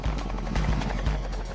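Rhythmic blade chop and turbine whine from a Tigre attack helicopter in flight, close and steady over a short stretch with no speech.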